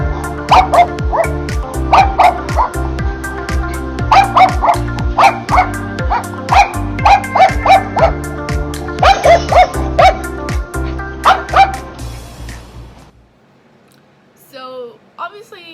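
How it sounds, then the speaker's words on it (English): Dog-reactive dog barking and yipping loudly in quick repeated bursts while pulling, about a dozen close sharp barks, then a quieter stretch with faint whimpering at the end. "this dog is barking and pulling and very dog reactive"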